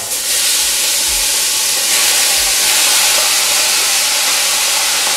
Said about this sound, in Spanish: escuchar el chisporroteo que va a caer ahora